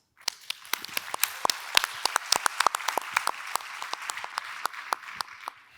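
Audience applause at the opening of an international social housing festival, with sparse, distinct hand claps that start separately and then thicken into a steady patter, moderately close and with no talk over it.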